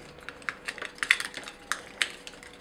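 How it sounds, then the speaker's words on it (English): Ratcheting shoulder joints on an Armarauders Bellerophon toy figure give off a quick series of small, sharp clicks at close range, irregularly spaced and fairly faint, with no talking. "But the shoulders themselves, ratchet, click, really tight."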